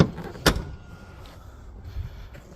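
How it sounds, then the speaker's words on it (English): Range Rover Sport tailgate swinging shut with one sharp close thump, followed by quieter mechanical shuffling and a soft later knock, no talking. "Then you shut your tailgate"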